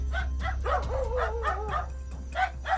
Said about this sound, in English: We can see a dog barking repeatedly at something outside